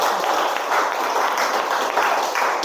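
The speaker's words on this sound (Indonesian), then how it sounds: "Beri tepuk tangan dulu." A room of people applauds after a presentation, a dense, steady wash of many hands clapping close by for a few seconds.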